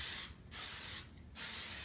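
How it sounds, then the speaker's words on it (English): Two bursts of nonstick cooking spray (Pam) hiss onto a lasagna pan, each lasting roughly a quarter second to half a second, close and fairly loud, separated by brief gaps. "We need to spray our pan"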